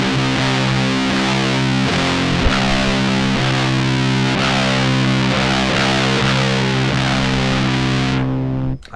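A guitar pedal built to mimic the power amp distortion of a Sun Model T roars as a loud, thick, sustained distorted chord that rings steadily for several seconds. It then cuts off abruptly near the end.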